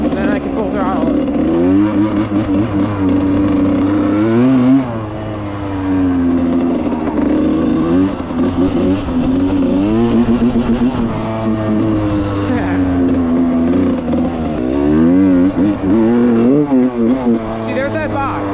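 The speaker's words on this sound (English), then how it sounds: "Take it a little lower RPMs again, make sure it's nice and warmed up. Then I can full throttle it." A 1995 Suzuki RM125 two-stroke dirt bike engine, close by and loud, is revved repeatedly, its pitch climbing and falling in waves with a stumbling bog, under intermittent talk.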